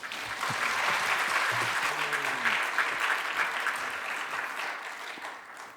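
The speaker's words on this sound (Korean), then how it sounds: "귀한 강사 목사님, 우리 박수로 환영하도록 하겠습니다" An audience at a church revival meeting applauds to welcome a guest pastor, a dense, sustained wash of clapping at moderate distance, steady throughout with a faint voice briefly audible beneath it early on.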